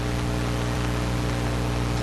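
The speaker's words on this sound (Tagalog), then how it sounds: "wala pa rin tigil ang ulan dito" Heavy rain pours steadily during a news field report, a dense, loud, continuous hiss filling the whole moment with no break and no voices over it.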